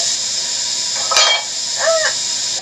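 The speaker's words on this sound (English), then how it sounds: "We are gently simmering our sausage, sautéing in the pan" Sausage sautéing in a pan gives a steady close hiss, with a brief louder sizzling burst midway and a short squeaky clink near the end.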